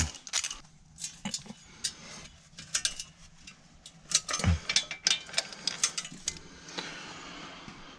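A ratchet works out the last hub assembly bolt on a 2011 Cadillac DTS, rapid mechanical clicks in short irregular bursts with small metallic knocks, close and without speech.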